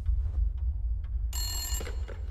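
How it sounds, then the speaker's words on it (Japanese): A telephone rings in Resident Evil Village's Shadows of Rose DLC, a bright electronic bell trill starting partway through over a low rumbling ambience, following a few faint clicks. "電話鳴ってます"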